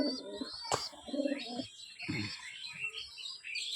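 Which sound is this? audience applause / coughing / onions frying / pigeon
pigeon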